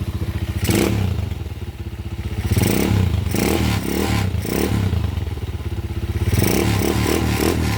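A 200cc motorcycle engine runs close by with a steady throbbing idle that swells into repeated revs, its firing pulses clearly audible throughout without any talk.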